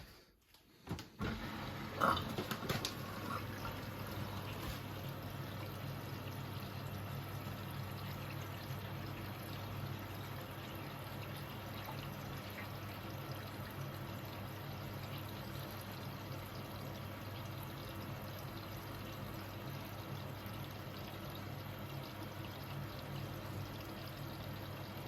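A Hoover H-Wash 500 washing machine fills with water, a steady close pouring rush starting after a few brief knocks and continuing evenly throughout.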